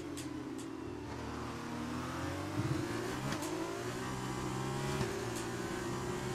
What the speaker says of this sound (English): You can actually hear the wheel spin.